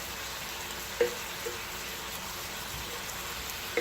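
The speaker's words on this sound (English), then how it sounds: "I'm going to let these onions and peppers cook down" Onions and peppers fry in a pan with a constant, even sizzle, broken by a couple of faint utensil taps; no one speaks.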